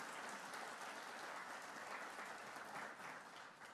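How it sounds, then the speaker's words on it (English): Audience applause at a crime victims' rights conference, dense steady clapping from a room full of people, holding at an even level before tapering off slightly at the end. "Give her a round of applause."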